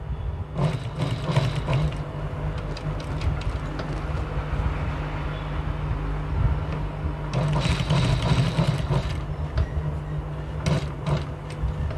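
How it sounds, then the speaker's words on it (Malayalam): A sewing machine stitches a cloth school duster, a close rapid mechanical clatter that runs steadily with a few brief pauses and shifts in speed. "ഇതുപോലെ സ്റ്റിച്ച് ചെയ്യുന്നു"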